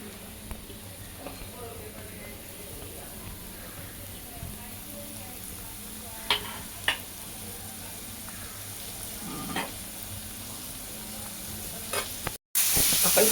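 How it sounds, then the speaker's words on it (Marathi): Onion frying in oil in a pan for baingan bharta, a soft steady sizzle with a few clicks and clatters of stirring, fairly quiet. "आपण आता कांदा टाकून घेऊया."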